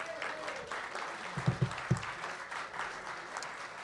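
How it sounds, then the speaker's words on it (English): Applause for Carl from a veteran's hall of fame gathering, moderate and somewhat sparse clapping with a few louder close claps, light background murmur. "Let's give Carl a big round of applause."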